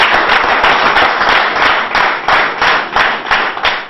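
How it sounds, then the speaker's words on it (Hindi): An audience claps rhythmically and loudly at a comedy show as a comedian is introduced, steady hand claps in repeated bursts with little else audible. "जोरदार तालियां बजाइए।"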